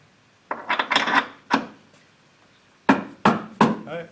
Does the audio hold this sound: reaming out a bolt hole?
yes